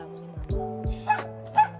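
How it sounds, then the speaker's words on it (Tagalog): A dog nearby gives a few short yips and barks, sharp and irregular, with faint background hum. "Diba mas maingay pa yung aso sa akin?"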